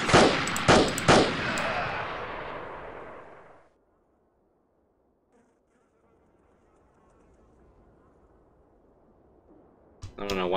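Gunfire from the Delta Force: Land Warrior video game, with loud rapid shots and blasts crowding the opening seconds, then a long near-silent stretch of faint ambience before another sharp burst at the very end.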